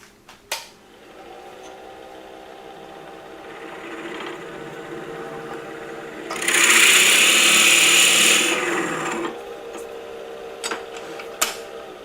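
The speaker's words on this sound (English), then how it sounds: "I like to take a Forstner bit and drill a hole down so that I know where my bottom is" A Forstner bit bores into a spinning wooden salt cellar box blank on a woodturning lathe, a loud high grinding cut lasting a few seconds over the steady hum of the lathe, with a sharp knock at the start and end.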